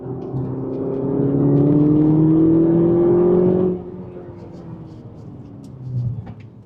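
An Audi S1 Quattro with a manual gearbox accelerates hard in third gear, its engine note climbing steadily for several seconds before easing off abruptly as the throttle lifts, heard from inside the car.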